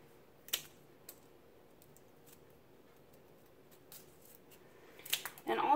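Scissors or cutters snip cardboard filler out of a 220V extension cord cable. A few sharp, isolated clicks come first, then a quick cluster of close cuts near the end, all over a quiet background.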